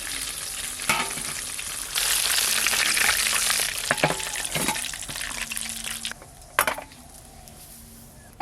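Chicken pieces deep-frying in oil, a loud continuous sizzle and crackle that fades after a few seconds, with occasional clinks of utensils against the pan and a brief voice in the background.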